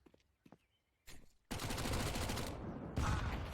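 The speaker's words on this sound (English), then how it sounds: "Double nade right in the face." Grenade blasts and rapid automatic gunfire in a Counter-Strike: Global Offensive match between Endpoint and SKADE; a few faint taps and a short burst lead into a long loud roar of explosion and sustained firing, then a second blast near the end.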